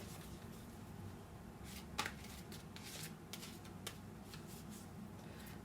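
Tarot cards shuffled by hand during a reading, soft riffling and flicking with a few sharper snaps, close and quiet over a low steady room hum, no talk.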